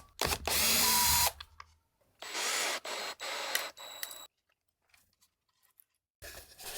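A power drill drives screws into a handle in short, loud whirring bursts separated by pauses, each burst starting and stopping abruptly, heard close up with no talking.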